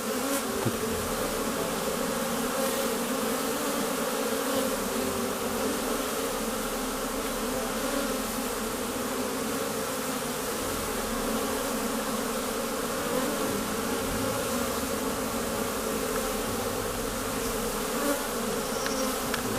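Dense, steady buzzing of many honeybees at an opened hive during a spring inspection, a continuous close-up drone that holds without pause and with no talk over it.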